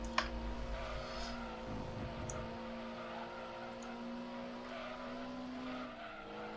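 A Honda Civic races around Trial Mountain in a racing video game, a steady sustained engine drone with a faint tire squeal and small clicks, fairly quiet and unbroken throughout.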